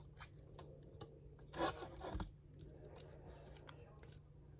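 Wire of a beaded paper clip being cut, with a couple of crisp close snips amid light rustling and handling noise, no talking.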